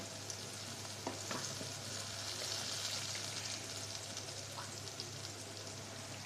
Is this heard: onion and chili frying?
yes